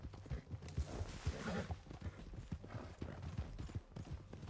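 A horse's hooves clip-clop in a galloping rhythm in the video game Red Dead Redemption 2, heard faintly and continuously with some rustling in the background.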